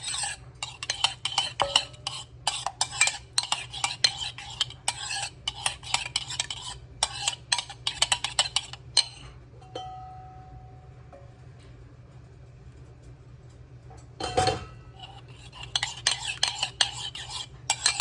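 Spoon stirring heavy whipping cream into hot tomato soup in a pot, quick continuous scraping and clinking against the sides, close and steady, pausing midway before resuming briefly.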